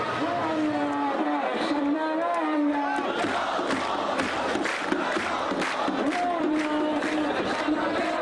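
A crowd in Syria shouts, cheers and boos as portraits of the dictator burn, with excited voices and chanting blending into a continuous, mid-distance roar.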